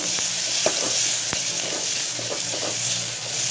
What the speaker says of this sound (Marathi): हे कांदा आपल्याला व्यवस्थित परतवून घ्यायचा आहे.